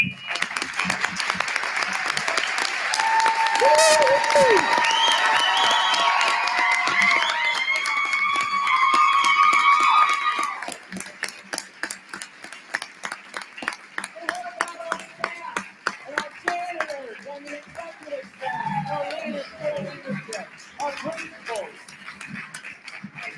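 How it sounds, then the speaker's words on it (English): A standing audience at a school board meeting gives teachers and staff a long round of applause, dense clapping and cheering for about ten seconds, then scattered claps and voices as the crowd settles. "let's give our teachers and staff a round of applause"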